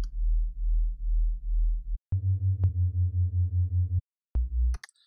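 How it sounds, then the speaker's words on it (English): A simple wobbly sub bass from a Serum synth patch for drum and bass, deep pulsing tones that wobble in a steady rhythm, changing pitch in short phrases with brief gaps, loud and alone. "listen to the serum patch that I've made, it is just a nice simple wobbly sub"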